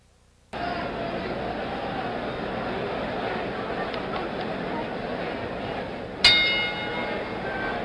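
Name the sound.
boxing round bell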